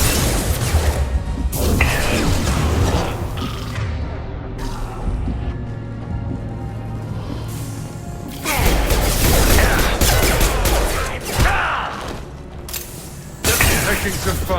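Bursts of gunfire and crashing impacts from the Mass Effect: Legendary Edition video game fill the mix, loud and dense, with quieter stretches between volleys and game voices now and then.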